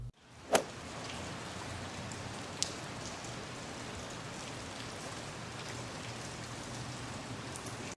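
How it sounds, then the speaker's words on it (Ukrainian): Constant rain pours down in the swamp biome of the video game Valheim, an even steady hiss that fills the whole stretch, broken by a sharp knock early on and a faint click later. "дощ йде тут завжди"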